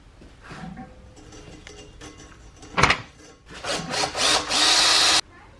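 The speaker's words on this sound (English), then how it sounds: "I'm just going to use a little wire brush attachment on the end of my drill." A power drill fitted with a wire brush attachment scrubs inside a U-joint housing on a 1973 Camaro, with short bursts of whirring and scraping that build to a loud, sustained grinding run before stopping abruptly.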